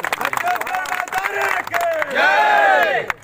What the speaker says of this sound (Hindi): जोरदार ताली बजाओ एक बार